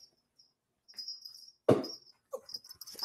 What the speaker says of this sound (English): So she's a miniature pincher, so I thought I would just pick her up.